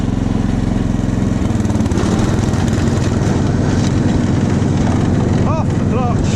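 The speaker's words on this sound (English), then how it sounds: "It'll get noisy now, the blade will come on." Snapper lawn mower running with its blade engaged, a loud continuous close engine drone with a dense rattling rumble that shifts slightly partway through, plus a few faint chirps near the end.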